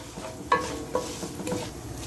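Garlic and coconut sizzle softly in a pan while spices are stirred in, with a few scraping clicks of a spoon against the pan over a low, continuous fry.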